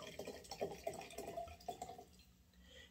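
Bourbon whiskey being poured from a bottle into a container of wood spirals, a close, trickling liquid pour with small splashes and drips that fade out toward the end.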